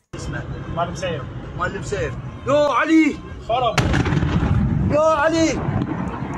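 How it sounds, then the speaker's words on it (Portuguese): A sudden heavy boom erupts midway as a militia headquarters explodes in Iraq, followed by a sustained loud rumble, while people talk excitedly before and over it. "parece uma explosão muito grande"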